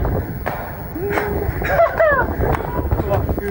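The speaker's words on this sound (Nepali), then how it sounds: "क्या चिसो हावा आयो" Low, rumbling cold wind buffets the microphone steadily while a person speaks over it outdoors in a park.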